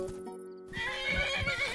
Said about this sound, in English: I noticed there was a horse pen in the distance. There was a lot of horses.